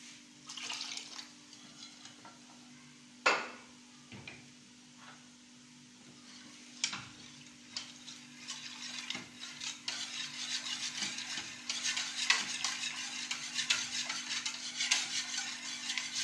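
Warm milk being stirred quickly with a utensil in a pot over low heat while making béchamel sauce: soft scraping and swishing strokes that grow busier toward the end, with a steady low hum underneath and no talking.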